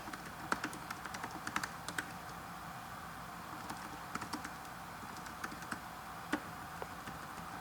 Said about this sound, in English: So we can type on this thing.